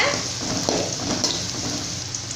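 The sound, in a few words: chopped green beans sautéing in oil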